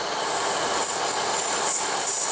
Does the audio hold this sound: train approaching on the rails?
yes